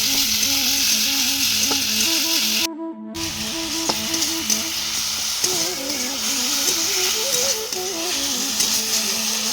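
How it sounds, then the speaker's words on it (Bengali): Drumstick leaf greens fry with garlic and dried chilli in a constant close sizzle with light stirring scrapes. A faint tonal melody plays underneath, and the sound cuts out briefly partway through. "বেশি করে একটু রসুন দিলাম আর শুকনো লঙ্কা দিয়ে শাকটা বেশ ভেজে"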